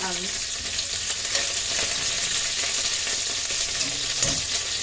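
Chicken pieces frying in very hot oil in a pan, a loud, dense, continuous sizzle and crackle heard up close, with faint stirring scrapes and no talking.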